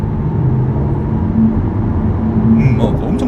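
BMW 523d four-cylinder diesel accelerating along a cement road, heard from inside as a steady low engine drone mixed with road noise, with a voice speaking over it.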